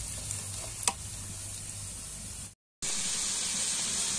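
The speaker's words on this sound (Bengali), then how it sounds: "আর এই পেঁয়াজগুলো ভালো করে ভেজে বেরেস্তা করে নেব ব্রাউন ব্রাউন" Onions frying until brown make a constant sizzling hiss with a single sharp clack early on, then a brief cut to silence before a louder, brighter sizzle resumes.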